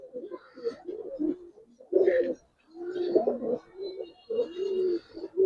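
Giribaz pigeons coo close by in soft, throaty, rolling bursts, several overlapping calls with short gaps between them and a few faint higher chirps.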